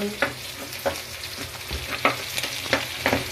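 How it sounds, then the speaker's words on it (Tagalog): Garlic sautéing in hot oil in a pan for Filipino kare-kare, with a steady frying sizzle broken by several sharp stirring scrapes at a loose rhythm, close and clear with no talk. "Lagay natin ang bawang. Igigisa natin."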